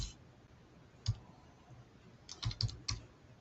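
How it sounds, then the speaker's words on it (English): Computer keyboard typing sounds out as a few sparse, crisp clicks: one isolated keystroke, then a short quick cluster of taps near the end, close and fairly quiet against a faint background hiss. "then you just start typing in"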